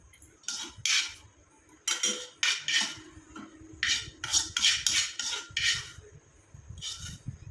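A mixer jar is handled while hair-dye ingredients are added, with a run of sharp metallic clinks and scrapes from a spoon against the jar and dishes, close and irregular, with no talking.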